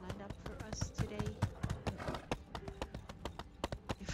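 Hooves of a horse ridden in the game My Time at Sandrock clop in a brisk, even run of sharp taps, close and moderately loud, repeating steadily throughout.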